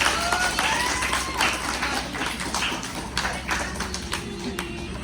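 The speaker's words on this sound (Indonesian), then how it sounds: "Kita beri tepuk tangan untuk kawan kita Stefani" A class of students claps for a classmate being called to the front, a dense patter of many hands in a classroom, with some voices mixed in.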